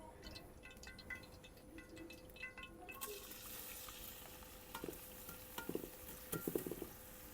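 Onions fry in hot cooking oil in a kadhai. A faint, steady hiss of sizzling starts partway through, with occasional soft clinks and stirring scrapes, and it stays quiet and close.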